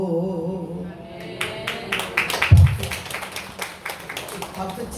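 A church revival congregation claps along in an uneven rhythm, the sharp hand claps starting partway in and continuing over fading singing, fairly close and moderately loud.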